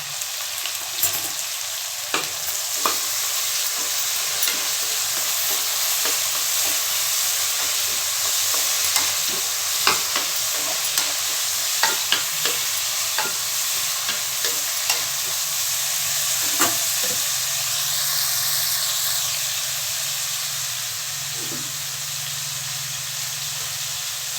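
Curry leaves crackling and sizzling in hot oil for a Tamil-style eggplant fry, a steady loud hiss broken by sharp pops and occasional stirring clatter, with no voices.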